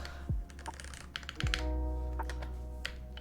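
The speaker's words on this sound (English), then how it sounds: "For now, let's just put in our keycaps." Keycaps being pressed onto a Space80 Apollo mechanical keyboard produce a scattered run of sharp, close plastic clicks and taps at an irregular pace over a faint background hum.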